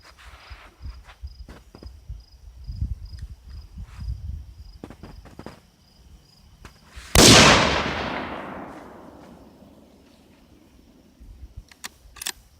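A shotgun fires bird shot at a flak vest outdoors in wind: one sharp, loud blast near the middle, with a long decaying rumble, preceded by footsteps and handling noises and followed by faint clicks.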